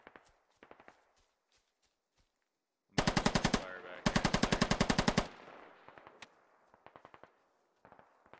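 Suppressing gunfire in the Squad military shooter, with scattered single shots early on, then two long, loud automatic bursts back to back, followed by more sporadic distant shots and short bursts.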